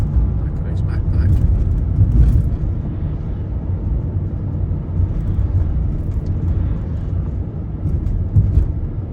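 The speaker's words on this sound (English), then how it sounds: "Nice BMW there, that sounded nice." A BMW drives past on a road, its engine giving a deep rumbling pass that swells and fades under steady road noise, with someone speaking throughout.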